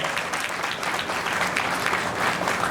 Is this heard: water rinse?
no